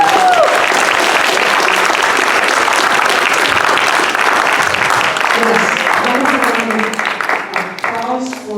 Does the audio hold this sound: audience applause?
yes